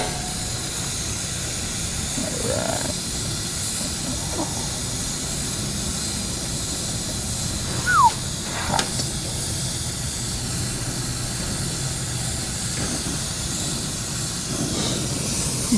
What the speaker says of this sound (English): We're going to point our flame away from the service valve